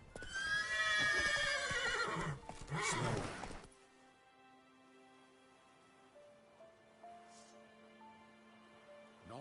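Roach, a horse in The Witcher 3 video game, gives a loud, close whinny in the first few seconds. After that come faint hoof sounds and game music. No talk is heard.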